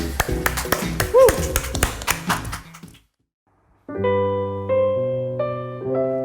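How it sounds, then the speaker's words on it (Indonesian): A congregation claps hands briefly during an online church worship service, scattered sharp claps with a faint vocal tone, then a short silence before sustained keyboard chords begin. "Tepuk tangan."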